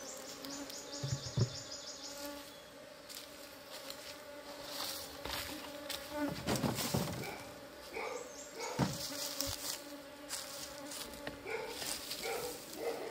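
Bees buzz densely around an open beehive, a constant close swarm drone with individual insects flying near and away and occasional knocks on the hive frames.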